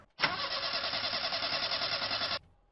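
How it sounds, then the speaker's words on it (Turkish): A car engine in the game MTA cranks and catches after a slow, labored start, a loud continuous churning roar holding steady for about two seconds before cutting off abruptly, with no talk over it. "Çok geç çalışıyor araba. Arabası çok geç çalışıyor."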